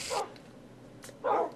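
Puppies in the video game Minecraft (Beta 1.4) give two short, clear barks, one at the start and another near the end, with a fainter yip between them and no talking.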